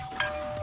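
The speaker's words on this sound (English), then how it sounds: "That was my doorbell." A home doorbell gives one brief electronic chime, faint and steady behind a low background hum, over in under a second with no talking.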